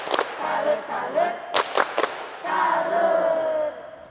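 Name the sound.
children doing a rhythmic salute clap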